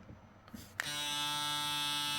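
A BRDCLIP hair clipper clicks on and settles into a smooth, steady electric buzz that holds at an even level, close by and alone.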